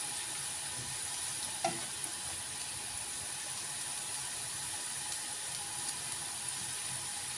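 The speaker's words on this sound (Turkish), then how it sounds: "Bu şekilde kızartıyoruz arkadaşlar." Cone-shaped manti dumplings fill with minced meat frying in deep oil, giving a steady, even sizzle and bubbling hiss close to the pan throughout, with no one talking.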